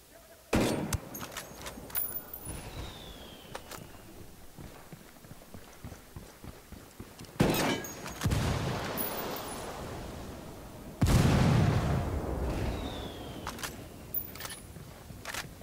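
Sniper fire in Ghost Recon Wildlands: a few sharp, loud gunshot cracks spaced several seconds apart, each with a lingering echo, against busy background game noise and scattered smaller impacts.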